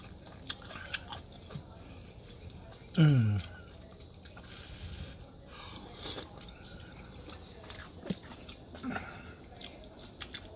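Soft, wet chewing near the mouth while tasting vegan New Orleans gumbo, with a brief vocal hum partway through and sparse quiet mouth clicks.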